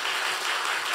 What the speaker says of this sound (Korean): 우리 두 분께 박수를